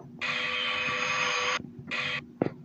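A loud UFO in a video game emits a harsh, buzzing electronic drone that holds for over a second, breaks off, returns briefly, then ends with a short blip.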